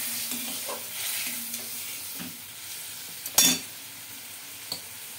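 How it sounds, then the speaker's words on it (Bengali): Fish masala sautéing in a pan with turmeric for bata fish curry, a steady soft sizzle with occasional stirring scrapes and one sharper clatter of a utensil near the middle. "হলুদ দিয়ে একটু কষাচ্ছি"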